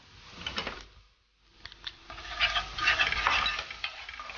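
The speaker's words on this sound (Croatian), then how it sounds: "Malo promiješamo sastojke." A spoon stirs ground chili, sweet paprika and pressed garlic in a pan, with scraping strokes and a light sizzle, close by, pausing briefly before quicker stirring resumes.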